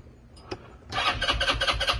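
A Cazador side-by-side engine starts after a few faint clicks: it cranks briefly, then catches into a loud, rhythmic, chugging idle, close by and with no talking.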